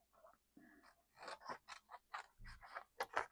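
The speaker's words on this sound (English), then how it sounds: "cut it to fit" Scissors snip through craft paper for a Christmas countdown desk craft, a rapid series of crisp, close cuts in a quick steady rhythm, quiet and without talk.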